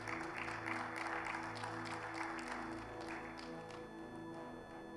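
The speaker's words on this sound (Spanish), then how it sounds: "Denle un fuerte aplauso" A church congregation at a Bible seminary class claps in a sustained, dense burst beneath a constant droning musical backdrop, the applause fairly faint and even throughout.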